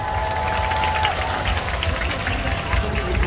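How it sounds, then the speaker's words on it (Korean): Crowd at an outdoor Christian freedom rally in Korea cheering and clapping to welcome a lawyer to the stage, a dense, steady wash of applause and shouts that holds for several seconds. "큰 함성과 박수 부탁드리겠습니다"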